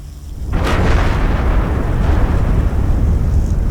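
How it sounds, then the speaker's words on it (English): A powerful explosion on the Deepwater Horizon offshore oil drilling platform: a sudden loud blast erupts after a brief quieter lead-in, then gives way to a sustained, dense roaring rumble that stays loud to the end. "a powerful explosion rocks the Deepwater Horizon drilling platform"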